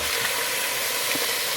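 Chicken pieces sizzle and fry in hot oil with garlic and tomato, a dense, continuous crackling hiss heard up close with no talking.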